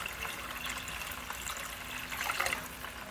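Tap water runs and gurgles into a saucepan to dissolve miso for red snapper miso sinigang, a soft continuous pour heard up close with no talking.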